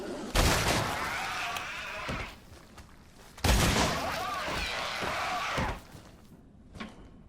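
Gunshots from Ramrod ammo in the video game Resident Evil 7: two heavy booming shots a few seconds apart, each trailing a rumbling decay, with a fainter thud at the end.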